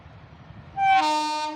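A train horn sounds loud and close, a sustained harmonic blast starting partway in and holding to the end over low rumble of an approaching train.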